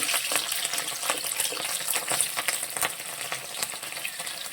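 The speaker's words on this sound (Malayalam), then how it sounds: "ഇഞ്ചിയും വെളുത്തുള്ളിയും കൂടെ ആദ്യം അതിനുശേഷം പച്ചമുളക് ഇട്ട് കൊടുക്കുക" Ginger, garlic and green chili sauté in hot oil in a pan, giving a steady close sizzle with scattered crackles and a few stirring scrapes, and no one speaking.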